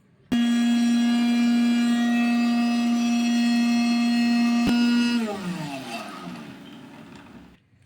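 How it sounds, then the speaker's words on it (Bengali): An electric blender grinds a mix of whole and powdered spices, including turmeric, Kashmiri red chili and coriander. It starts abruptly with a loud, steady motor whine, holds for about five seconds, then winds down as the pitch falls and fades out. "এই সমস্ত মশলাগুলো একসঙ্গে ব্লেন্ডারে দিয়ে আমি ব্লেন্ড করে নেব।"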